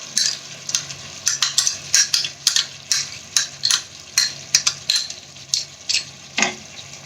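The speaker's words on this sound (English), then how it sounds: "So now what we'll do, we shall add the curd masala to it." Curd masala going into a pan of watermelon rind curry, with a soft sizzle under repeated scraping strokes of a spoon against the pan in an uneven, brisk rhythm.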